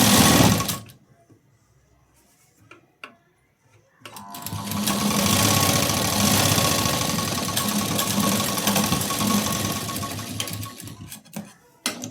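A sewing machine stitches a blouse seam. After a few quiet taps, it runs for about eight seconds in a fast, close, rattling stitch before slowing to a few final clicks.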